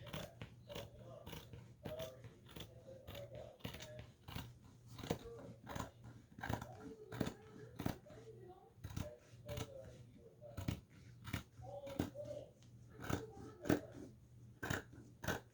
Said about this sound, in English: And then I'm just gonna take my scissors